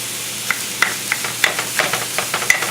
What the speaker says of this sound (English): Now we're going to saute this just like we saute many other things.